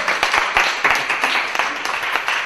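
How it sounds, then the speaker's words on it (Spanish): A crowd at a live program gives loud applause for a woman during a raffle draw, with dense, energetic clapping and sharp individual claps standing out close by. "fuerte el aplauso para la señora Steffi"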